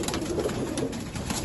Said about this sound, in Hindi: एक से बढ़कर एक कबूतर